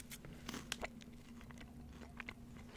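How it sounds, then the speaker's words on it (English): A quiet crunchy snack, poured into a bowl, is chewed close to the mic with soft, irregular crunches and bites over a low steady background hum, and no one speaks. "It's a very soft crunch."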